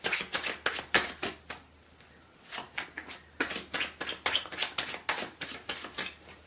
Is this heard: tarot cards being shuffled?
yes